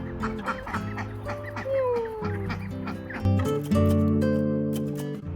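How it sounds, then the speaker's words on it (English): Ducks and growing ducklings quack and call close by in a busy, overlapping chorus of honks, peeps and clucks, rising louder toward the end. "Oh, our ducklings are getting so big."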